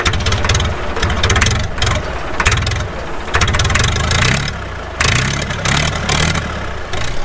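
An old backhoe's diesel engine idles steadily nearby, a low, continuous rumble with a faintly pulsing, uneven throb that holds at a constant level throughout.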